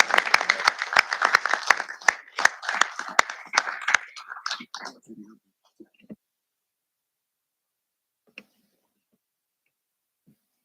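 A small group at a transportation planning organization board meeting claps briefly and sparsely, sharp individual claps thinning out over a few seconds into near silence with a couple of faint later sounds.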